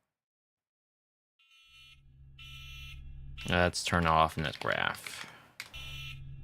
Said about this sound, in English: Turn off alarm.